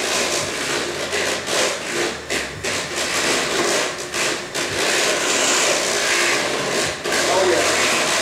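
Sweet potato pie filling with a large amount of sugar being mixed, a loud continuous scraping and churning with rhythmic strokes and brief dips, close up and steady throughout.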